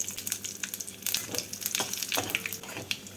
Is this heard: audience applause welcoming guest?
no